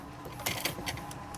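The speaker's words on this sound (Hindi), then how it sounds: "इसके पास से धीरे धीरे हमें सिलाई लगानी है" Sewing machine stitching slowly along cutwork fabric patti on a palazzo pant, giving a continuous close mechanical hum with a few light clicking ticks over about a second and a half.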